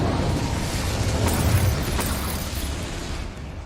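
A Bombarda blasting spell exploding in the video game Hogwarts Legacy, a broad rumbling blast with debris crackle that swells and then fades over a few seconds.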